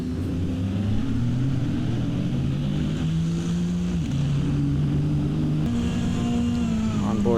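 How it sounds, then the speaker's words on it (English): V8 GT race cars scream down the front stretch at Monza, a sustained loud engine drone holding steady pitch with a few shifts and dips as cars pass, blended with wind-like rush. "Screaming V8s down the front stretch."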